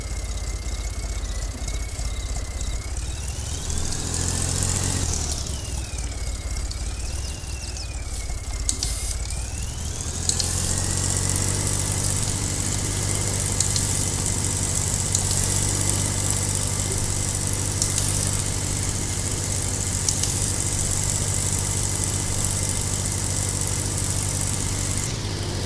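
A Swaraj 855 tractor in Farming Simulator 22, stuck in a ditch, its engine droning and straining steadily, rising in pitch before settling into a loud, constant labouring roar.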